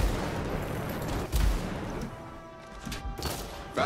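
Gunfire from guns in Anthem crackles in dense bursts, rapid shots and impacts piling over a loud, busy game soundscape with a couple of heavier thumps.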